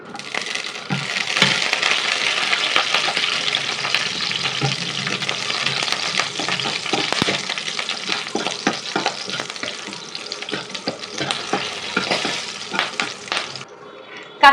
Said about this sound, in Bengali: এবার তো এই তেলের ভিতরে দিয়ে দিব শুকনা ঝাল আর কাঁচা লঙ্কা কাঁচা